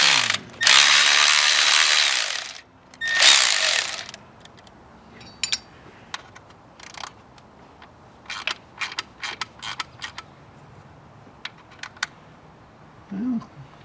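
Torx bolts being loosened and removed from a BMW N55 six-cylinder head cover on an F33 435i, heard as bursts of clicking and metallic ticks in quick, irregular groups, with two louder rustling stretches near the start.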